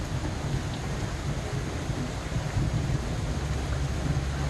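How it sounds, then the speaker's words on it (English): Rain pours steadily during a thunderstorm while low thunder rumbles beneath it, a dense, continuous roar with occasional gusts of wind. "Hear that thunder?"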